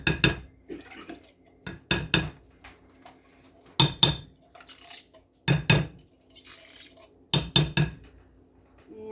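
A spoon scrapes canned pumpkin out of a metal can, giving sharp repeated clinks and scrapes in short bursts separated by quiet gaps, close and without talking.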